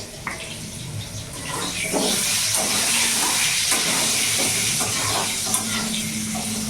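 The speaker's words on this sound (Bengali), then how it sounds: "আলু ভাজা এখানে বসিয়ে দিয়েছি আলুটা লাল লাল করে ভেজে নেবো" Potato pieces frying in oil in a pan, a close, steady hiss and sizzle with occasional soft clinks and stirring sounds running throughout.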